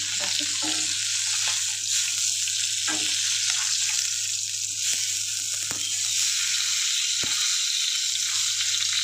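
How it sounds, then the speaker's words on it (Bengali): Fish sizzles steadily in hot oil, a dense continuous crackle with a few sharper pops and clinks scattered through, with no one talking. "যে মাছটা তেলের মধ্যে দেবো তো কী হয়, মাছটা বাঁকা হয়ে যায়"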